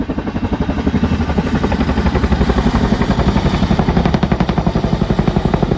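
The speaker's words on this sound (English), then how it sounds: "that makes the CH-47 one of the best firefighting helicopters in the world" A CH-47 Chinook firefighting helicopter thunders close by, its rotor beating in a rapid, steady chop over a heavy engine roar, with no voices.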